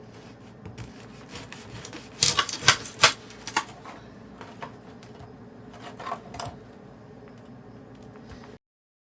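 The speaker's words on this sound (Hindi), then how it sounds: "इसको भी साइडों से काट लेंगे इस तरह।" A knife saws through French bread, making crisp, crackly crust crunches in quick bursts, strongest in a cluster early and again later, close up, with quiet pauses between cuts.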